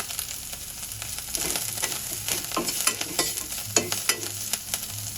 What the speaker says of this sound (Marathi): कोथिंबीर छान परतून झाली आहे.